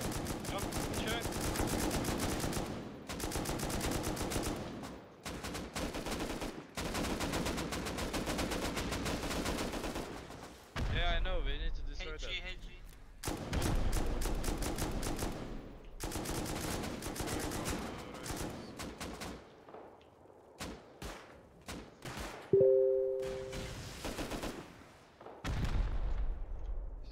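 Rapid automatic gunfire aimed at turrets during a raid in the game Rust, long loud bursts separated by brief pauses, with a short whining burst and a clear tonal beep late on; voices talk among the shooting.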